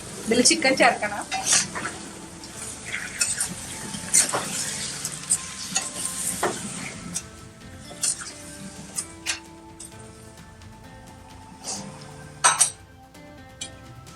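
Raw chicken goes into a Kerala-style curry pan of sautéed tomato masala, then gets stirred with a metal spoon: repeated clinks and scrapes against the pan over a soft sizzle, with someone talking now and then.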